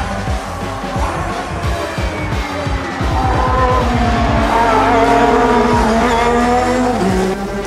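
A Honda-engined race car at the Goodwood Festival of Speed, loud and close, its engine revving hard through rising and falling gear changes with tire squeal and a brief skid as it passes.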